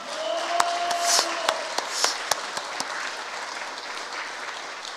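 A church congregation applauds warmly during a Korean sermon, a dense, even roar of clapping with a few sharp louder claps and faint tonal hum beneath it.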